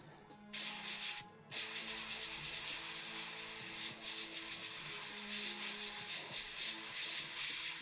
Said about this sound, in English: I'm just spraying this over where we just done all the white ink.